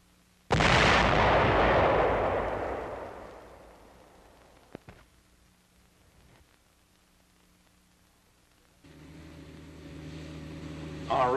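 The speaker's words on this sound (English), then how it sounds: "240mm howitzer." A 240mm howitzer fires once at a field artillery position, a sudden loud boom that rolls off over several seconds, followed by quiet and a crackly hum of old recording noise.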